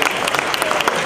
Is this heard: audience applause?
yes